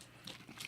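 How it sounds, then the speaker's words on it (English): Faint, close crunches of someone biting and chewing a crispy cookie snack, a few quick crisp bites within under a second. "Can you hear that crunch?"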